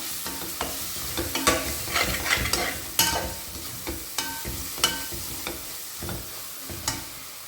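Spices with coriander powder are stirred and scraped in a hot pan with a steady sizzle, frequent sharp utensil knocks punctuating the frying, no voices.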